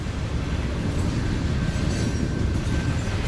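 A train crossing the Nine Arch Bridge in Sri Lanka, heard as a continuous low rumble of rolling wheels and carriages with a faint steady whine, close and constant with no talk.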